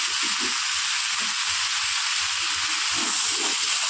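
Ground coriander, cumin, chilli and turmeric fry in hot oil in a pan, giving a loud, constant hissing sizzle, with soft thuds of stirring underneath.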